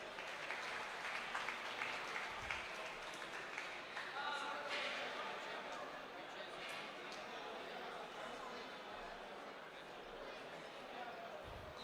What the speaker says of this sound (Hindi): कि तालियां बजा दें प्लीज़।